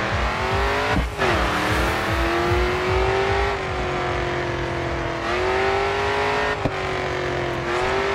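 A racing car engine in the GRID 2 video game revs hard and loud, climbing through the gears with repeated rising pitch sweeps broken by brief shifts, close and continuous with no talk.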